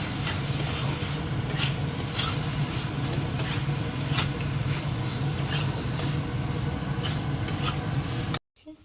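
A spoon stirs garam masala powder into a curry in a pan, with continuous sizzling and repeated scraping strokes against the pan, steady and close, ending abruptly.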